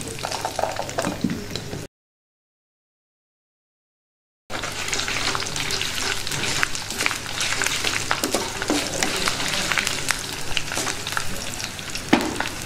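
Garlic cloves sizzle and crackle in hot oil in a pan, a steady close frying hiss with occasional sharper pops, cut by a brief silent gap before the sizzling resumes just as before.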